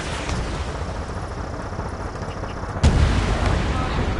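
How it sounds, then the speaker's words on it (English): Gunfire and explosions from the combat flight game Ace Combat rumble under a continuous battle din, with a sudden heavy boom partway through that leaves a louder, deeper roar afterward. "Gunfire and the roar of jets echoing through the streets."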